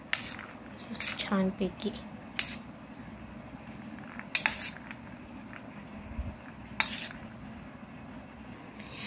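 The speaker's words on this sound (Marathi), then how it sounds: "तर आपण जे फ्रूट्स आणि व्हेजिटेबल्स धुवून खिसून आणि चिरून घेतलेले आहेत त्यांना आपण मिक्स करूया" Washed, grated and chopped fruits and vegetables being mixed for shahi koshimbir, with wet squishing, spoon clinks against a bowl and scattered scraping bursts, close by, while someone talks briefly.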